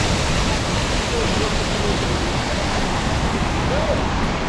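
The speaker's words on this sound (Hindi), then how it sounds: "ये ऊपर से हमने कल जाती बार जो पार किया था हाफवे वाला झरना, ये वही है।" Rudranag waterfall on the Kheerganga trek roars loud and steady as a constant broadband rush of falling water, heard close up with no break.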